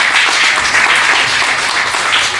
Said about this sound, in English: Another round of applause for Sam.